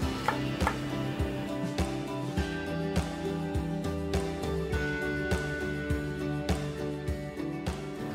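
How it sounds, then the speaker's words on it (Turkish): Onions being chopped with a knife in a restaurant kitchen for a soup, a steady run of sharp, close knife strikes on a board, roughly evenly spaced, over a faint background hum. "Soğanı doğrayarak başlıyoruz."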